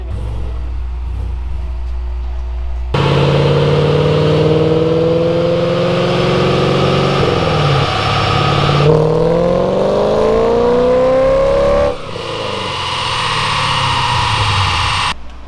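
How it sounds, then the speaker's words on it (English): A 2017 Camaro SS on a dyno during a pull, its V8 engine roaring loud and close, the pitch rising as it revs through gears, each rise broken by a short drop before climbing again. "the car made it onto the dyno. It did sort of a bit of a, I guess, starting pull or whatever"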